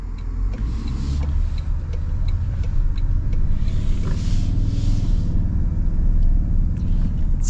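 2024 Toyota Tundra with the four-cylinder iFORCE engine accelerating, a loud, close, steady low rumble from inside the cab with faint clicks on top.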